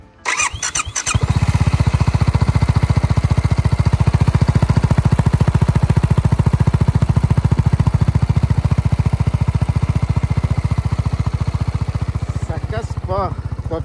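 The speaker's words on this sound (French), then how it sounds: "maintenant je vais vous faire écouter les bruits du moteur" A BMW C400GT scooter engine starts, then runs loud and close near the exhaust with a steady, rapid pulsing throb that holds through the clip, with a brief squealing rise near the end.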